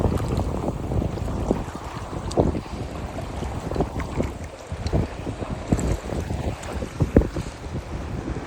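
Strong wind buffets the microphone on a choppy lake from a kayak, giving a constant roar with irregular gusty thumps and water sloshing throughout, with no voices.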